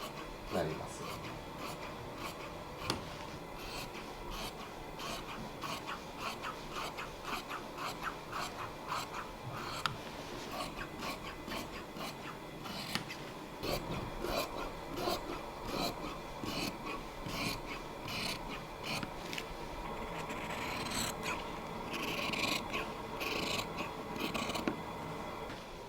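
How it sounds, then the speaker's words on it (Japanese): Fabric from a disassembled kimono is cut apart with rapid, repeated snipping and rasping strokes that run steadily throughout, with faint background noise. "こう切っていくような形になります。"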